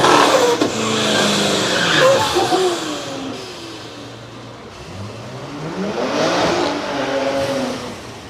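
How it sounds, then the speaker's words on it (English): At a no-prep drag strip, a Chevrolet Camaro and a Cadillac CTS-V roar close by with revving engines and tire noise, then pass off before a second rising engine surge; a voice briefly talks. "Like it's going to be a Camaro and a Cadillac CTSV over there in that right lane."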